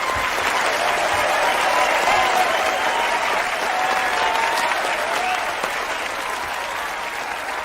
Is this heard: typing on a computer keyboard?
no